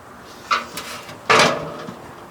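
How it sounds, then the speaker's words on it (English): A metal firebox on a BBQ smoker being slid back in: a short scrape, then a louder rough sliding clunk about a second later, close and without talk. "Here's our firebox inside, which actually just slides right out,"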